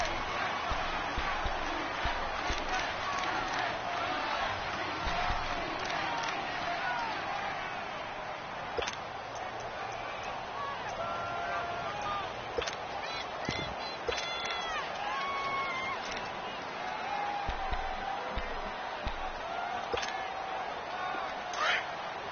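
A stadium crowd roars steadily through an American football game involving Detroit, a dense, distant wash of cheering heard under continuous play-by-play commentary.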